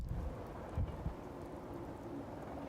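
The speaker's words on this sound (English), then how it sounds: "The soft pitter-patter of rain permeates the area." Soft rain pattering steadily in the video game Spirit Hunter Death Mark, an even, hushed wash of drops with a couple of low dull thumps early on.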